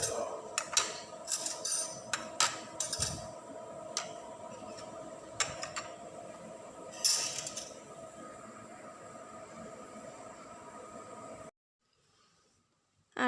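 Ceramic plates clink and clatter against each other as a stack of five is carried out, with a quick run of light, irregular knocks and taps that stop abruptly into near silence.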